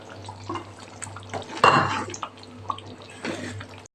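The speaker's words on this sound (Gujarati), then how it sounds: "અહીંયા હજી હું થોડુંક પાણી ઉમેરું છું" A brief splash of water poured into a simmering pot of Gujarati mixed vegetable curry, with light dripping and pan sounds around it, then quieter bubbling.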